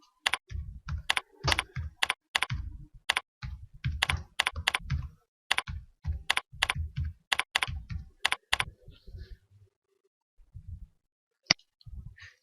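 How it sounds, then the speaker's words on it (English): Fingers type a comment on a computer keyboard in quick bursts of crisp, close key clicks, with a pause near the end and one last isolated tap. "type in our comment"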